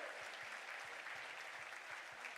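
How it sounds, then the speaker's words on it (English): An audience at a school production of The Sound of Music applauds the cast and crew, a dense, even wash of clapping, faint and distant throughout the short stretch. "Why don't we give a big round of applause once again for this cast and crew."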